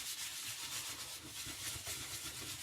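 Soft rhythmic rubbing and scraping of sandpaper on paper edges, a continuous quiet back-and-forth hiss heard up close with no talking.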